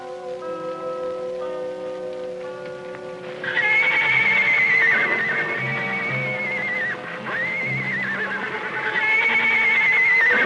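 Horse neighing and whinnying near a corral, an Indian pony, loud and repeated over a steady musical background, with faint hoof clip-clop underneath; no talk.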